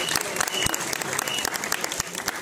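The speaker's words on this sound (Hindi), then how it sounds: "तालियां चाहिए।" Crowd applause at a film trailer launch press conference in Mumbai, a steady patter of many hands clapping with sharp individual claps standing out.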